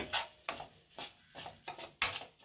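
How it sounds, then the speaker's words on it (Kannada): Semolina (rava) frying in oil in a pan for upma, heard as a string of regular scraping stirs, roughly one every half second, each with a soft crackle, fairly near and quiet. "ಇದು ಚೆನ್ನಾಗಿ ಫ್ರೈ ಮಾಡ್ಕೊಂಬಿಡೋಣ."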